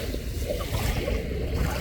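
Strong sea waves churn and rush against the shore in a loud, continuous wash of water and wind, close by with no voices.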